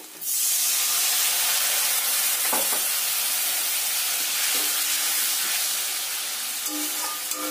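Spices frying in a pan as a little water is added, a sharp burst of steam hissing and sizzling that settles into a steady loud sizzle with faint stirring clinks, no voices.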